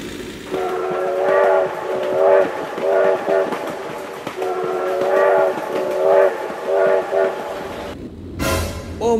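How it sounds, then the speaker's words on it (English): Train passing close by, a loud sustained rumble with repeated blaring horn blasts rising and falling for about eight seconds, then cutting to a brief clatter. "Oh my God, train!"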